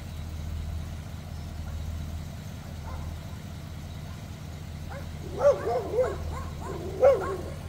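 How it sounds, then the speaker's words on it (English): A neighbor's dogs bark in a few short clustered bursts over the steady low idle of a 1964 Oldsmobile Dynamic 88 engine, with the barks fairly distant. "Neighbor's dogs are out"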